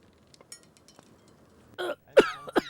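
A few coughs from a character in a Hindi-dubbed Bengali movie scene, a short raspy burst followed by two sharper coughs, close and fairly loud against near silence.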